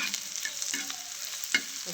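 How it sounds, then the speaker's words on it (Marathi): A steady sizzle of onions frying in hot oil tempered with cumin, mustard seeds and garlic, with a few soft stirring scrapes and taps against the pan. "जिरी मोहरी लसणाची फोडणी देऊन कांदा टाकल्या भाजायला"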